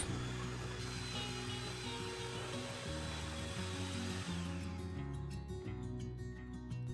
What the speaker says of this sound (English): Mix it with electric mixer at medium speed until it becomes smooth.